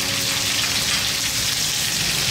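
Sliced red onions and chopped garlic sizzle in a hot pan with chili and curry leaves, a steady, dense frying hiss heard up close with no talking.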